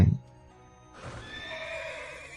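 A horse in the Dynasty Heroes video game gives a drawn-out whinny after a short thump at the start, the neigh clear and sustained against quiet game background.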